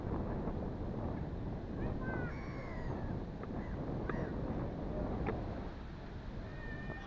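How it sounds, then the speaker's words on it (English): Strong wind blowing outdoors, a constant low buffeting roar across the microphone throughout, with faint higher squeaks or tones drifting over it. "A lot windier today."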